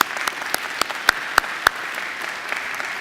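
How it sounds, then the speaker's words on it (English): An audience at a Macquarie University graduation ceremony breaks into a round of applause, continuous clapping filling the hall with a few sharper, louder claps standing out near the front. "I think he deserves another great round of applause."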